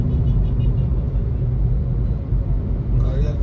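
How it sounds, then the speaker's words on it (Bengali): A Maruti Suzuki Ertiga petrol car with an overhauled engine drives on a road, giving a continuous low rumble from inside the cabin, steady and moderately loud. "ফাইনালি আমরা আর্টিকা নিয়ে টেস্ট ড্রাইভে বেরিয়েছি।"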